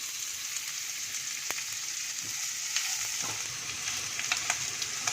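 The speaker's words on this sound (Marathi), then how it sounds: "कांदा गुलाबीच्या रंगावर परतून झाला." Onion sautés in a pan with a soft, steady sizzle, punctuated by occasional light clicks and scrapes of stirring, close and fairly quiet with no voices.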